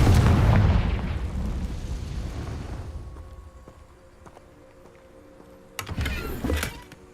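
In the Hogwarts Legacy video game, a Confringo explosion spell booms loudly at the start and rumbles away over several seconds, then a second shorter blast crackles near the end.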